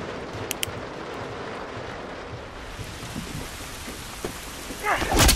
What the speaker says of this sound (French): On est enfin à l'extérieur. Sous la pluie.